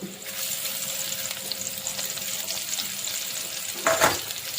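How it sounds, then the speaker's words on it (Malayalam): Curry leaves sautéing in a pan with onion, garlic and ginger for a Kerala fish curry, giving a steady close sizzle and a brief louder crackle near the end, no talking. "കുറച്ച് കറിവേപ്പിലേ കൂടി ഇട്ട് നമ്മൾ നന്നായിട്ടൊന്ന് അതൊന്ന് വഴറ്റിയെടുക്കുവാണേ"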